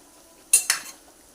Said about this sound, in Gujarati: આ રીતે આપણે મસાલાને સરખી રીતે તેલમાં સાંતળી લઈશું।